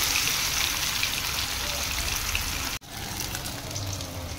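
Paneer cubes frying in hot oil in a kadhai for button paneer tadka give a steady, dense crackling sizzle that cuts out for an instant midway, then carries on at the same level.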